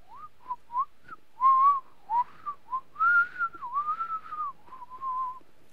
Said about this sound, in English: I never know how whistling turns up on the microphone.